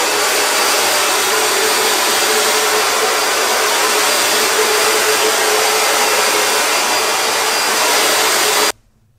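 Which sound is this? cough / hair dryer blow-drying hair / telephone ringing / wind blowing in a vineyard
hair dryer blow-drying hair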